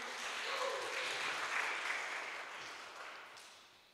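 Audience applause at a stand-up comedy competition, a dense wash of clapping that swells then gradually fades out over a few seconds.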